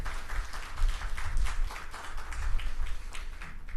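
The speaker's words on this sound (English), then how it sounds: "Everyone, big round of applause." An audience at a 50th anniversary event for an engineering research and development centre applauds, a dense, fairly soft wash of many hands clapping in a large hall that holds steady for several seconds.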